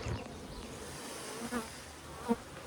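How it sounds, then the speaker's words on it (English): A busy hive of honey bees in a beehive box, a steady insect drone close to the microphone with a few louder bee passes standing out. "A nice busy box of bees."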